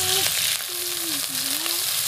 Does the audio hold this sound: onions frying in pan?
yes